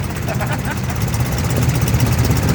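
A BMW 80 GS motorcycle in Paris-Dakar trim with Marzocchi forks and a side-mounted exhaust, its engine running in a rough, steady idle close by while people talk over it.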